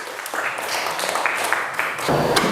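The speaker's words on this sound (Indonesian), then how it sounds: "tepuk tangan untuk Ragis" A classroom of students claps for a classmate, a short burst of close, uneven applause with some voices mixed in.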